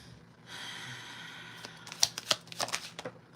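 Deck of tarot cards being shuffled by hand, a soft steady riffle followed by several crisp flicks and taps, close and quiet.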